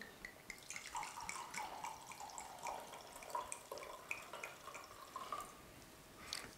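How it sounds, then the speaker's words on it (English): Homemade cranberry sauce wine, still and uncarbonated, trickles into a glass in a faint, steady pour with light dripping splashes and no talking. "So let's go ahead and pour us a glass."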